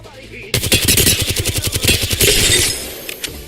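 Volt submachine gun in Apex Legends fires one rapid, loud automatic burst of about two seconds, tight evenly spaced shots that give way to a short ringing tail.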